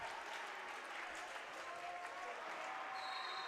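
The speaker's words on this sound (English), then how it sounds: "Big round of applause" A gym crowd at a SoDak16 girls basketball game applauds its three senior players, the clapping steady and moderately distant across the hall.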